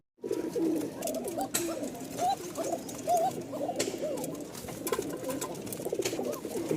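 Several Rajshahi Giribaz pigeons, two pairs kept together in a new place, coo steadily in soft, rolling, overlapping calls, close by, with a faint background hiss and no talk.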